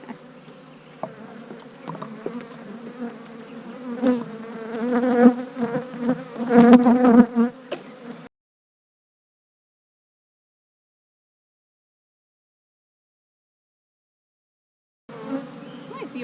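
Honeybees buzzing around an open beehive during an inspection, a close, dense drone that swells louder midway, then cuts to silence before resuming briefly at the end.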